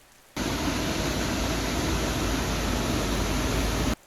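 Horsetail Falls, a waterfall in the Columbia River Gorge, gives a steady, dense broadband roar that holds constant for about three and a half seconds, then cuts off. No voices are heard.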